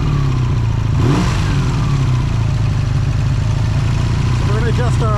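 A Honda VF750 motorcycle engine runs at a steady idle during a carburetor sync, rising in a short rev near the start, then holding a constant close-up rumble.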